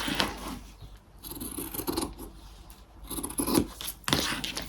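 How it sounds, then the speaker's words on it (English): Scissors cut through paper for a handmade card, close crisp snips and rustling paper in an uneven rhythm, with quiet handling noises between cuts. "Okay, I'm going to cut this off."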